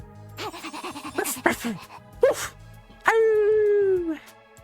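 A character in the video game The Hundred Line: Last Defense Academy voices dog-like sounds, with short yipping barks and whimpers followed by a long drawn-out howl-like cry, the voice imitating a dog.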